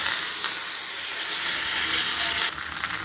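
Curry leaves hit hot oil with mustard seeds and a pinch of asafoetida while tempering a tomato kara chutney. A steady, close, loud sizzle runs throughout, with a brief crackling burst near the end.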